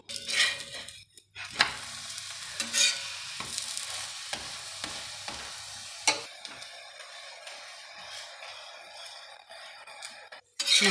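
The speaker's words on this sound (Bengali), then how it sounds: "একটু টাইম নিয়ে ভাজতে হবে, গ্যাসের ফ্লেমটা একটু স্লোয়ে রেখে" Methi paratha stuffed with fenugreek leaves fries in an oil-slicked pan over a low gas flame, a steady soft sizzle broken by scraping and stirring of a spatula and a few sharp clinks near the start and end, no talk.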